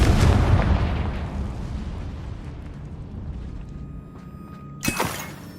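Confringo fire spell explosion in the video game Hogwarts Legacy, a loud booming blast that rumbles and slowly decays over several seconds, followed by a sharper crackling burst near the end.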